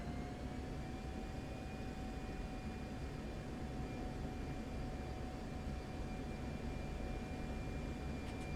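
Jet aircraft approaching to land in the flight simulator DCS World, a steady broad engine roar with a thin whine, constant in level throughout with no talk.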